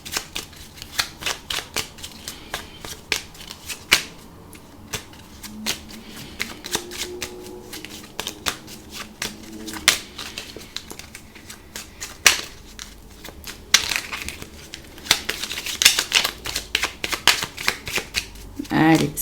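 Tarot cards riffle and snap in repeated bursts of shuffling, then are cut into piles, crisp close papery clicks and flutters across the whole stretch, with quiet room tone between.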